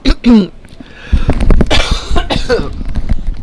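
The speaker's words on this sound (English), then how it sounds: "I don't know why I cough every morning, but I do" A man coughs several times in a rough, chesty fit, with loud broadband bursts close to the microphone, mixed with a brief spoken bit near the start.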